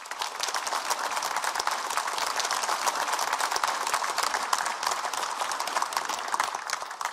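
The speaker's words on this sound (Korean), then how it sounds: "박주선 전 국회 부의장님을 큰 박수로 맞이해 주시기 바랍니다" Steady, dense applause from a seminar audience in Gwangju greets a former National Assembly vice-speaker taking the stage, a continuous wash of clapping that holds at an even level throughout without any voices.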